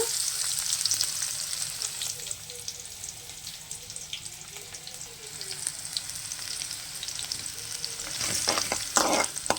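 Crushed garlic and dried red chillies sizzling in hot oil for tomato pickle, a loud continuous crackling fry close by, with a few sharper scraping stirs near the end and no speech.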